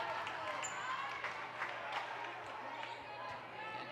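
Crowd noise in a gym at a high school volleyball match between Park Center and St. Louis Park, a steady murmur of cheering and voices with scattered sharp accents behind a server, moderately distant, with talk mixed in.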